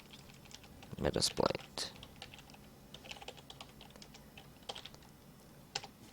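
Keys clatter on a computer keyboard in quick irregular bursts, a few louder clicks up front then lighter scattered tapping, close but quiet, with someone briefly speaking.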